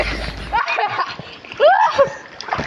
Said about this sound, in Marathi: ही वीरेंची उलटी उडी।